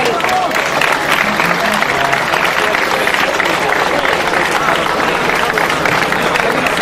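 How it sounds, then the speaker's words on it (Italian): Audience applause at an outdoor band gathering in Serradifalco, a continuous loud crowd clapping with a busy, noisy texture and some faint tonal sounds mixed in. "facciamo un applauso, Rosario Losardo"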